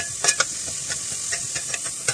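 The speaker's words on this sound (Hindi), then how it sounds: "प्याज को सिर्फ सौते करेंगे इसके अंदर।" Chopped onion sautéing in oil in a pan for a mixed-vegetable dosa filling, a soft steady sizzle broken by several brief stirring scrapes, close and moderately quiet with no talking.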